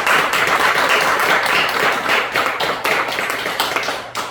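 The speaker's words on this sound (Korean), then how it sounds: "우리 하나님의 말씀을 잘 전해주신 목사님께 감사해서 박수." A church congregation at a Sunday worship service at Incheon Gwangmyeong Central Church applauds the pastor, a dense, steady patter of many hands clapping close by for several seconds that thins slightly toward the end.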